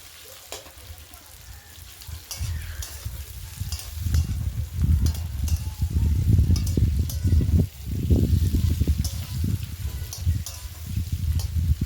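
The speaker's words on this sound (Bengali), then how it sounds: "তেলের মধ্যে দিয়ে দিলাম এবারে পেঁয়াজটাকে ভালো করে ভেজে নিতে হবে" Onions frying in oil in a home kitchen for a chicken dish, a steady crackling sizzle that swells and pulses from about two seconds on, with low stirring thumps, no talk.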